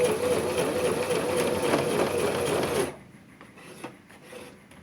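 An electric sewing machine stitches a short back-and-forth bartack on a side zipper pocket, a close, rapid buzzing rasp for about three seconds that stops abruptly, leaving quiet handling noises.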